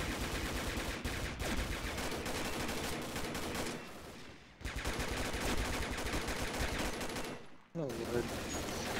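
Rapid, dense bursts of automatic gunfire in the online shooter Combat Arms, nearly continuous and loud with two brief gaps, playing alone without talk.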